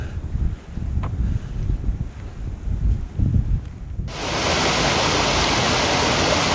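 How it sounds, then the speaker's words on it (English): Steady broadband rush of Meadow Creek flowing close by, with muffled rustling and handling noise before the water sound takes over. "Creek's over here on the right hand side. I can hear it."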